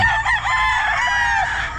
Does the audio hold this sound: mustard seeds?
no